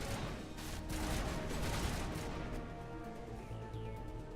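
Enemy gunfire in the video game Mass Effect, a dense, continuous crackle of distant shooting with booms mixed in, fairly faint and steady throughout.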